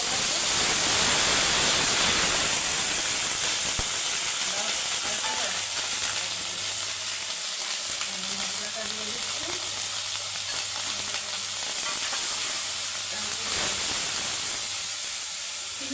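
Ginger, onion and garlic paste sizzles and hisses steadily in a frying pan of hot oil with bay leaf, cardamom and dried chilli, a loud continuous frying sound with occasional stirring scrapes.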